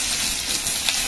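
Whole cumin, dried chilli, garlic and chopped onion sizzle in hot oil in a pan, a brief, close, continuous hiss without voices.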